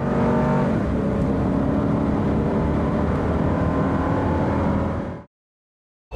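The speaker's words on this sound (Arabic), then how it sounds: "جرب بنفسه تسارع السيارة من 0 إلى 100 كيلومتر في الساعة." A car accelerates flat out from 0 to 100 km/h, its engine roaring loud and unbroken for about five seconds before cutting abruptly to silence.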